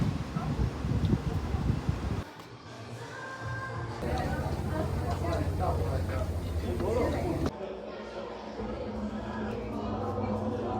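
Strong outdoor wind buffets the microphone with a continuous rough roar throughout, while people talk over it on a summer holiday outing.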